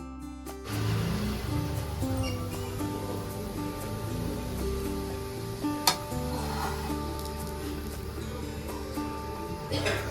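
Food frying in a pan with a few drops of oil sizzles steadily and close by, with a continuous crackling hiss, a brief sharp clatter near the middle, and some faint voices and background noise underneath.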